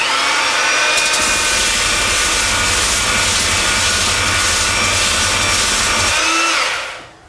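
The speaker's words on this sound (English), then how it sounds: "I'm going to sand that off real quick." A power sander works over a carved wooden sign, a loud, steady whirring drone that runs continuously and close up, then winds down and stops at the end.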